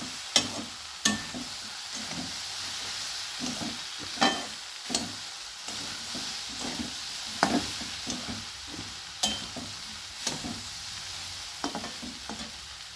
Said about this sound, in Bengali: এবার সমস্ত ডিমটাকে সমস্ত সবজির সঙ্গে ভালোভাবে মিশিয়ে দিচ্ছি।